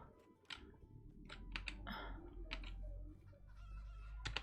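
Chickens clucking in a cozy farming video game, a handful of short, close clucks and squawks in quick succession over a steady low background hum, with no talk.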